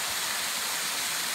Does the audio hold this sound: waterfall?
yes